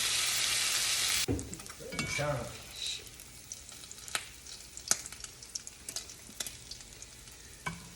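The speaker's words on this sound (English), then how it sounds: "All right, I got my bacon all fried up." Bacon sizzles in a pan while wilted lettuce and cornmeal gravy are being made, a loud hiss for the first second, then quieter crackle with scattered sharp pops.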